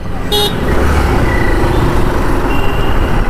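A 2025 Hero Super Splendor 125 Xtec BS6.2 motorcycle engine runs steadily and smoothly under heavy wind rush during a test ride, with a brief horn-like toot from nearby traffic early on.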